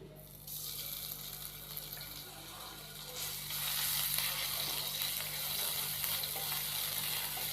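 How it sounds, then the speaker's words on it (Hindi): Ginger-garlic paste fries with cumin seeds over low heat in a pan, making a continuous hissing sizzle that swells louder partway through and then holds steady, with no one speaking. "एक मिनट के लिए हम अदरक और लहसुन के पेस्ट को फ्राई करेंगे"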